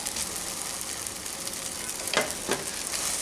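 Semolina frying in a pan keeps up a soft, constant sizzle as boiled potato goes in, followed by two sharp, close scraping stirs near the end, with no speech.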